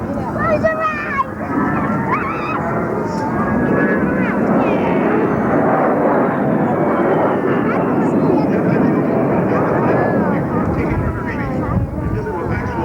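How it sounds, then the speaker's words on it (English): An A-10 jet roars past at a 1994 Rhode Island Air National Guard air show, a loud sustained engine rumble and whine sweeping in pitch, with a narrator talking over it. "Outstanding maneuverability that enables the A-10 to work effectively even under marginal weather"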